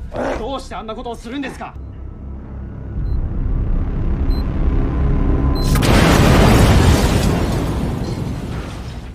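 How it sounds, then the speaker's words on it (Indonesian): A bomb explodes in a film scene, arriving after a spoken voiceover and a low building rumble as a sudden loud burst followed by a roaring, crackling blast that slowly fades. "Tepat saat ada pria misterius yang meletakkan sebuah bom di depan tempat itu dan..."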